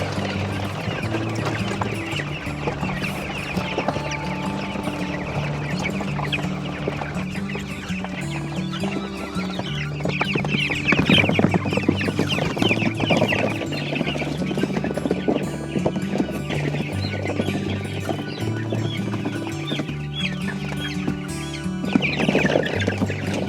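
A flock of pasture-raised chickens clucks steadily at close range, a dense layer of overlapping calls running without pause beneath a rumbling, rattling background.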